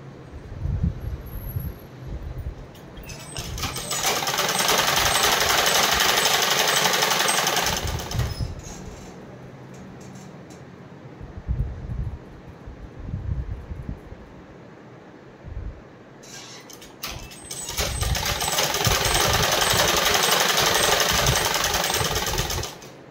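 Two long bursts of steady, fast machine stitching on leggings, loud and close, separated by quieter pauses full of small handling and fabric-moving noises.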